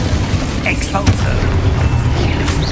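An explosion spell goes off in Hogwarts Legacy, a heavy booming blast that rumbles loudly and is mixed with swishing magical effects. A voice sounds over it.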